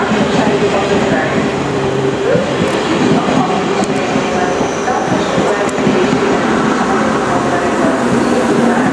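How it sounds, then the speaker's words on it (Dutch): Intercity train at Hengelo station platform, a loud, steady rumble of rolling railcars with faint clicks and brief squeals, heard close up from the platform. "the Intercity to Osnabrück, Hannover and Berlin will depart from platform 3"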